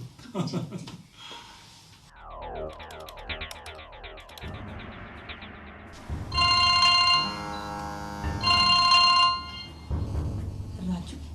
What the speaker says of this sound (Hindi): राजू का फोन? राजू का फोन इस वक्त?